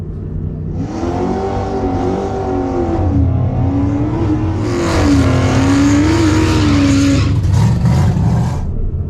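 A Tesla Plaid in Dragstrip mode launches down a quarter-mile drag strip, giving a loud, steady electric whine with a rising and falling tone over a broad road roar that swells midway, then eases.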